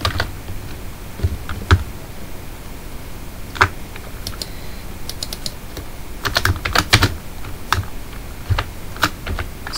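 Serial number typed on a computer keyboard: close, irregular keystrokes that come in quick clusters with short pauses between them, and no talking.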